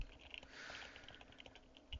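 Computer keyboard typing in a laboratory scene from the game Wasteland 3: a quiet, steady patter of soft key clicks with a faint background hum.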